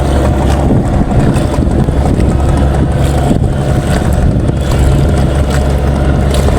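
A boat moving on the Buriganga river gives a steady, loud rumble of engine and water with constant wind buffeting on the microphone, unbroken throughout and with no talk.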